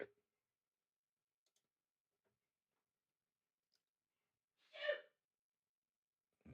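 A single sneeze bursts out near the end of a quiet stretch, short and moderately loud, with faint ticks and near-silence before it.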